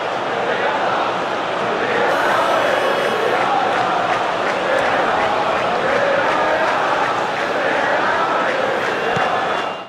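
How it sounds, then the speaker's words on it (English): A dense, continuous roar of stadium crowd noise in the football game PES 2014, with chanting and cheering, steady and loud throughout, sounding somewhat flat and uniform. "Listen to the crowd as well, if you can hear it."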